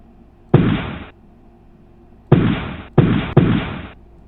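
Gunfire from a hunting rifle in The Oregon Trail game: four sharp, loud blasts, one alone, then three in quick succession, each with a short decaying tail, over a quiet background.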